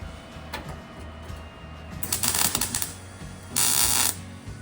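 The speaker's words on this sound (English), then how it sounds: "trying to figure out what setting works best for the welder" A welder test-firing on the replacement floor pan of a 1968 Volkswagen Beetle gives two short crackling bursts, the second steadier and brighter, over a low background hum, with no talk.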